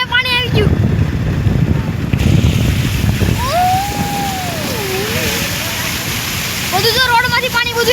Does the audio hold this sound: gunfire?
no